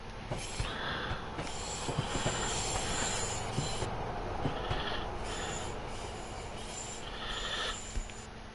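An AI freight train of oil tank wagons rolls past in the PS5 game Train Sim World 6, a continuous rumbling clatter of wheels with faint squeals and occasional clunks, steady throughout.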